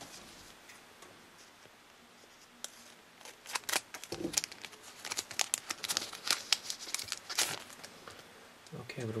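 Scissors cut and crinkle open a Mario Kart Wii trading card pack, giving a run of sharp, close snips and crackling foil wrapper, with faint talk near the start.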